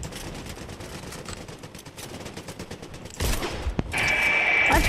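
Bursts of gunfire from the Fortnite video game, a dense rattling volley that grows louder and fuller toward the end, with a sharp single crack near the close.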